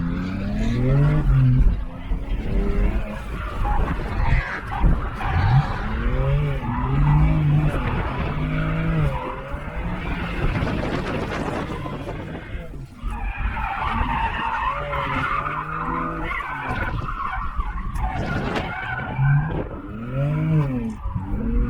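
A BMW E92 335i drifts with loud, sustained tire squeals and skidding, its engine revving and rising and falling in pitch as it slides through corners, close and continuous throughout.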